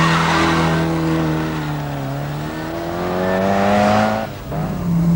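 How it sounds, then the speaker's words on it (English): Mini 850 race car engine screaming at high revs before a crowd, a loud steady tonal drone that dips and climbs, dropping sharply near the end before picking back up. "850 screaming its heart out to the delight of the crowd"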